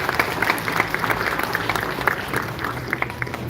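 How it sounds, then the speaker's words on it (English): An audience at a SeaWorld show applauds a performer, steady moderately distant clapping with scattered sharper claps running throughout. "Let's go ahead and give him a big round of applause"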